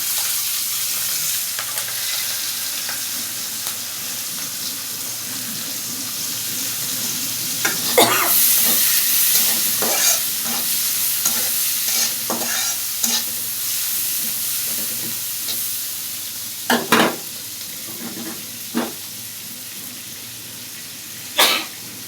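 Chopped onions and fresh green chilies sizzle in hot oil in a pan, a continuous frying hiss with occasional scraping stirs and utensil knocks rising above it.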